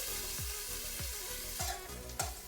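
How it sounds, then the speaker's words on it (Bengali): Jackfruit and potato pieces frying in a pan, a steady oily sizzle broken by four regular scraping stirs of a spatula, close and fairly loud, with no talking. "তো এগুলো একটু ভেজে নিচ্ছি।"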